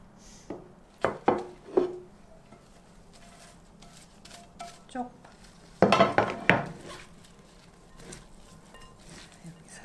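Seasoned soybean sprouts tossed gently by hand in a bowl with soy sauce, perilla oil and chili flakes, giving scattered clinks and soft wet rustles in short bursts, fairly close and moderate.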